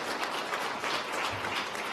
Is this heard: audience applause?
yes